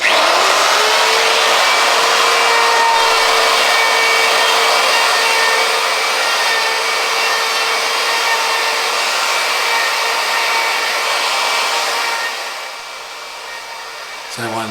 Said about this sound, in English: So now I'm going to use a 1/2 inch round over bit. Just going to make some random kind of distress marks in the wood.